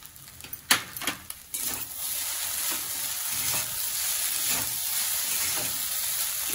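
Semiya upma, vermicelli with squeezed lemon and chopped coriander, is mixed in a pan: a few sharp spoon knocks and scrapes up front, then a steady close frying sizzle that swells slightly and holds to the end, no talking.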